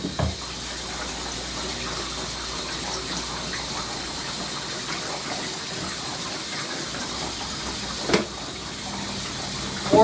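Water from a tap runs steadily while a dog is rinsed during grooming, a continuous loud gushing spray with a brief splash or knock near the end.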